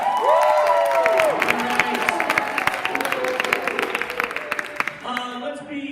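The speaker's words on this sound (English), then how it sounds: "Give them a round of applause." Audience applause and cheering at a spring improv comedy show, a dense wash of clapping from a live crowd lasting several seconds, with a voice talking over the start and the clapping thinning toward the end.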